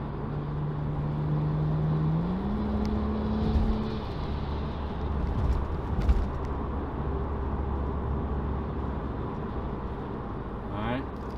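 A BMW 535i F10 with a muffler delete rumbles and burbles at about 3,000 rpm, a deep, steady exhaust drone with a rising tone partway through, heard from inside the car.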